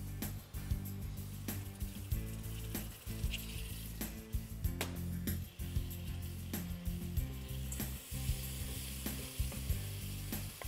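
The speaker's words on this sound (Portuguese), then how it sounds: "E isto vai fritar um bocadinho lentamente, só por uns 2 ou 3 minutos" Tomato paste and hot chili pepper fry slowly in a pan, a continuous sizzle close up with repeated stirring scrapes and utensil knocks throughout, no voices.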